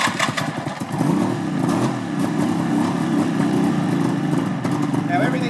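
A small Suzuki two-stroke engine idles steadily close by with a buzzy, slightly uneven note, and someone talks over it.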